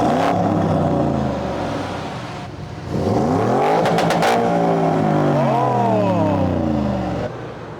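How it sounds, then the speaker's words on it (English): A tuned 700-horsepower car at a car meet at the Jeddah F1 circuit, its engine revved hard in several loud rising and falling sweeps, close by and alone. "So this is how this car sounds."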